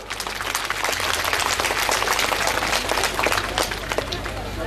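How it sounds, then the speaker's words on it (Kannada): A crowd claps loudly for a doctorate recipient at an SC/ST community programme in Bangalore South. The rapid, dense clapping runs steadily throughout over a low electrical hum. "ಡಾಕ್ಟರೇಟ್ ಪಡ್ಕೊಂಡವ್ರಿಗೆ ಬಹಳ ಜೋರಾಗಿ ಚಪ್ಪಾಳೆ ಹೊಡಿಬೇಕು ನೀವು"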